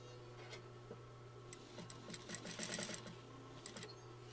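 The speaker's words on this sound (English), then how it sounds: "So we're going to sew the first seam." A sewing machine stitches a quarter-inch seam for cording, its quiet rapid ticking needle rising in short bursts over a faint steady motor hum.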